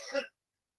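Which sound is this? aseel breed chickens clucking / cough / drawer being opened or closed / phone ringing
cough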